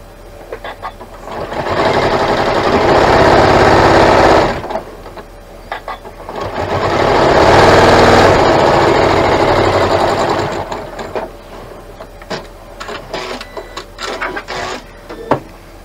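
A sewing machine stitches a quilt block seam in two steady, loud runs of fast mechanical whirring, then falls to quieter handling and fabric-shifting noises near the end.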